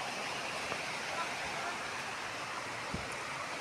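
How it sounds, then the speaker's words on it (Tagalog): Water pouring from an outdoor waterfall makes a steady, broad rushing roar that fills the whole clip without a break, with no voices over it. "Yung tubig lang guys galing sa waterfalls."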